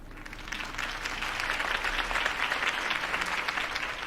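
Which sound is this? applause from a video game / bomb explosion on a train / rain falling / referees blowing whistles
applause from a video game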